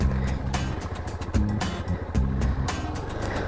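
A Honda XR250L dual sport motorcycle is ridden along a rural road, its engine drone steady and close, with the pitch dropping and climbing again at a couple of clear gear changes, under rushing wind noise.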